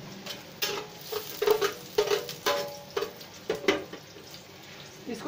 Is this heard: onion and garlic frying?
yes